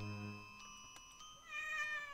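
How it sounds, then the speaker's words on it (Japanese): A cat meows in a video game while being petted: a long, clear, high-pitched mewing cry that rises near the end, set against a soft steady tonal background. "リーグルは猫を撫でている。"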